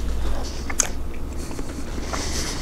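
Soft biting and chewing of a hot barbecue and brown sugar sloppy joe with mustard, made in an Instant Pot, eaten close to the microphone as brief moist crunches over a steady low hum, with no talking.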